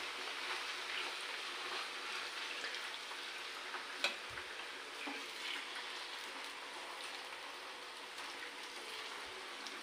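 Potato slices frying in hot oil over a high flame, a steady, dense crackling sizzle throughout, with a single soft knock of gentle stirring partway through.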